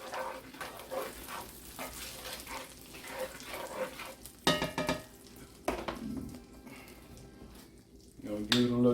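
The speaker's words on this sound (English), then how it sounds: "Let this brown sugar" Brown sugar melting into butter in a pan for an apple streusel, a soft steady sizzle with stirring scrapes and a few sharp utensil clinks near the end, under occasional voice.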